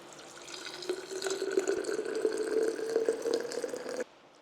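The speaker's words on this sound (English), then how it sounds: "Okay, adding hot water around 90 degrees," Hot water, about 90 degrees and not boiling, poured over rose petals to steep for Turkish rose sherbet: a steady close trickle and splash of liquid for about four seconds, then it stops, with no talking.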